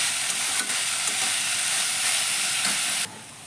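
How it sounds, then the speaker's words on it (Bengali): Chopped banana stem stir-fries in an oil-filled pan, a steady bright sizzle and hiss with a few soft stirring clinks, cutting off abruptly near the end. "তো থোড়টা আমার একটু ভাজা হয়ে গেছে।"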